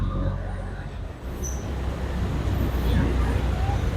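Dense evening road traffic in Bangkapi, Bangkok, rumbles steadily near a skywalk construction site, engines and tires blending into a continuous low roar nearby, with someone talking over it.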